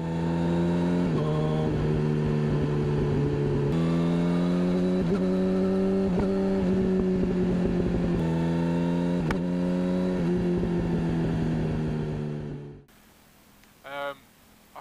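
A Yamaha R1 sport motorcycle engine drones and revs in steady pitched steps through gear shifts, then stalls and abruptly dies away into near silence with a faint trailing whine.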